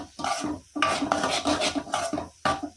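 Mutton liver is roasted and stirred in a pan, with a spoon scraping the metal in repeated close, rhythmic strokes over a soft sizzle.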